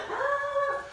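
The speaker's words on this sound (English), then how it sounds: "the dogs are going to bark for a minute" Dogs indoors react as someone arrives home in Texas, giving a single drawn-out whimpering yelp with a rising, wavering tone, fairly close and otherwise alone.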